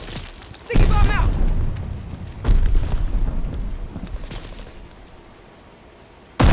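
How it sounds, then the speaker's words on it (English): Sticky bomb detonating in a first-person shooter match on the Gavutu map: a loud, close boom bursts out under a shouted voice, followed by a second blast with a long rumbling tail and another sharp bang at the end. "Sticky bomb out!"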